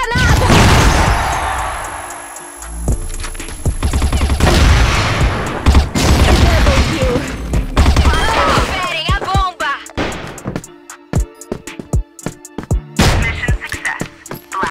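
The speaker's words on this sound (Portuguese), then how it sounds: "Granada!" A grenade goes off in a shooter video game, a sharp crash among a busy, loud stretch of gunfire and impacts, with broadband bursts recurring near and loud throughout.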